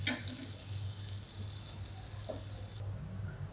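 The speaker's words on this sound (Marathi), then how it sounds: "बारीक गॅसवर चांगली परतून गॅस बंद करते" Egg bhurji frying in a pan on a low flame, a soft continuous sizzle with a low steady hum beneath it and a faint clink partway through, close and quiet, no talking.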